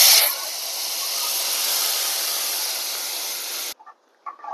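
Ground masala paste meets a hot tempering of asafoetida and curry leaves for a Goan spicy okra curry, letting out a loud, sustained steamy hiss that cuts off abruptly, followed by faint clatter.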